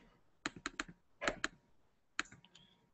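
Someone types a short command on a computer keyboard: about ten crisp, close key clicks in quick bursts with short pauses between them, and no voice.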